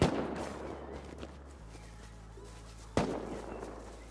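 A single loud gunshot in the survival game Rust, a sharp crack opening with a decaying tail, a faint hollow pop mid-way, then a second abrupt report near the end over a low steady hum.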